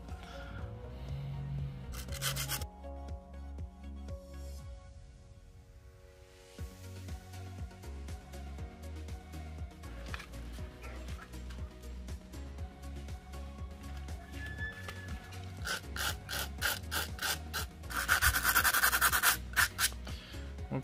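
Rubbing and scraping along the seams of a homemade brick-pattern stencil, a close, quiet, uneven rasping with short bursts of harsher scratching.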